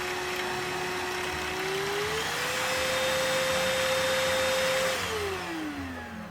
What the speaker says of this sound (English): it should work when we turn on the vacuum cleaner